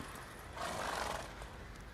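Roach, Geralt's horse in The Witcher 3, gives a short whinny rising in the middle of a two-second stretch of steady ambient noise, no talk over it.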